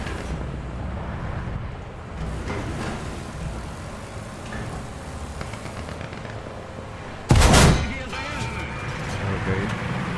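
Rockets and gunfire in the War Thunder tank game, with a dense rumble of distant battle noise and one loud, sharp blast standing out near the end.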